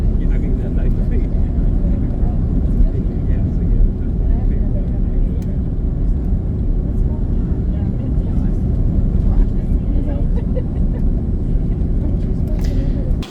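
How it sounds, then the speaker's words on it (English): An airplane landing at Frankfurt, heard from inside the cabin as a steady, loud low engine and airflow roar that stays constant throughout, with no clear voices over it. "the plane is landing, headed to Frankfurt"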